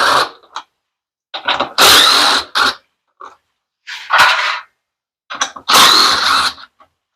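Power drill with a 10mm socket driving out the door hinge screws on an LG washer, several loud whirring bursts of about half a second to a second each, separated by short pauses, close up with no talk.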